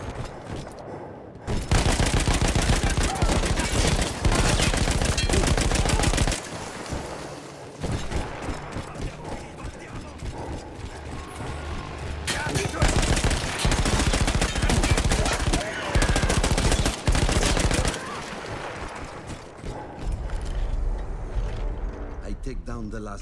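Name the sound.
machine gun firing in video game Battlefield 1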